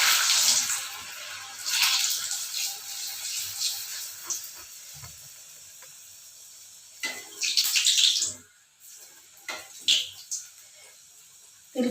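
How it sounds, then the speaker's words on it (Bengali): Kachoris sizzle as they fry in very hot oil, a loud hissing crackle that surges as pieces go in, then dies down and flares again. "কচুরিগুলো ভেজে নেব।"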